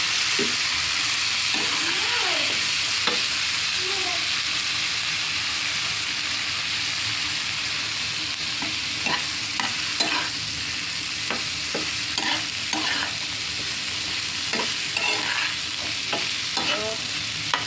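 Continuous loud sizzling of bean seeds and chopped tomatoes frying in a pan, with a utensil scraping and stirring in scattered strokes throughout, no voices.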